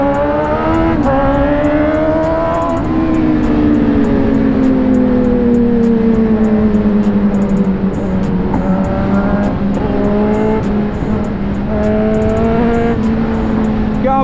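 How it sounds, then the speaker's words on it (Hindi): A Kawasaki Z900 motorcycle engine revs and rides along, a loud continuous roar whose pitch rises and falls with the throttle, close and dominant throughout with no talk. "पीछे से आ गई फिर से Z900 ये जा रही।"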